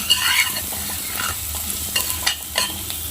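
A spoon stirs salt into matki misal in a pan, producing close scraping and clinking strokes at an irregular rhythm over a soft, steady sizzle of frying, with no talk.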